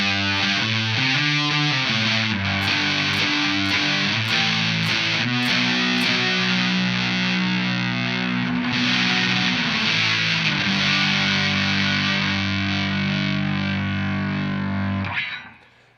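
An electric guitar run through a Tone Bender-style fuzz pedal plays loud, saturated notes and chords, with a run of sharp picked stabs early on, sustaining for several seconds before cutting off abruptly.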